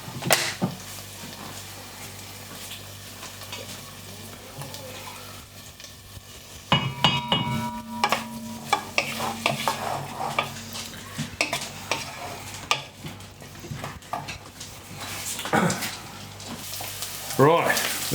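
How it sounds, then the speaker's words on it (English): Beef for a pepper curry frying in homemade ghee in a pan, a steady low sizzle broken by repeated scrapes and clanks of stirring, with louder bursts of activity later on. "we're going to fry the meat up with that"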